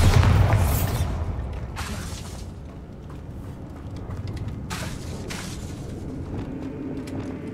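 A Bombarda blast spell explodes in Hogwarts Legacy, one heavy boom up close at the start that decays into rumbling debris and scattered crackles and pops.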